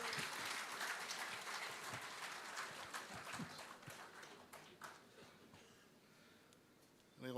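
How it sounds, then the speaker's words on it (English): An audience at a professionals' summit gives a round of applause, loud and full at first, then thinning out and fading toward the end. "Can we have a more round of applause"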